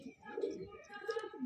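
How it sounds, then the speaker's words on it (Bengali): A female pigeon coos softly in a few low, rolling phrases, faint and close, with some background voice. "এটা মাদি পায়রা"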